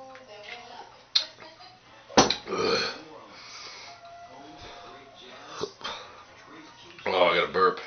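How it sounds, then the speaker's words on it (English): A loud, abrupt burp from a man during a head shave, standing out above a background of talk and faint clicks, with a second strong burst near the end. "Oh, I got a burp."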